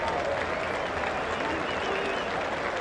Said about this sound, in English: And that applause that you hear,